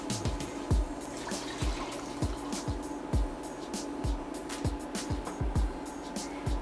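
Vegetable broth is poured into a pan of stovetop stuffing. A steady, close stream of liquid runs throughout with a repeating glugging rhythm, alone with no talk.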